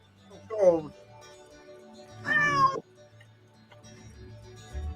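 A cat meows twice in a video being played back, drawn-out talking-like calls separated by a pause, fairly clear over a quiet low hum.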